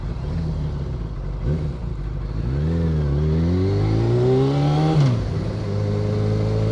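A car passes a rider on a motorbike on a Staffordshire road, its engine note rising and falling as it draws level and pulls away, loud and close over the bike's own steady engine hum.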